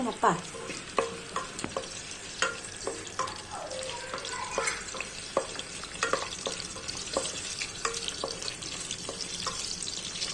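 Vegetable pulao ingredients fry in a pan with irregular clinks and scrapes from stirring over a soft sizzle, and water runs at times.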